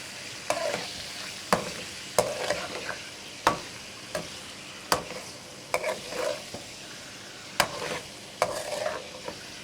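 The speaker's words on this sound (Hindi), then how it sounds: "चिकन जो है वो हो रही है ऑयल में फ्राई" Chicken frying in oil, with a steady sizzle under repeated sharp utensil scrapes and knocks against the pan every second or so, close and fairly loud with no talking.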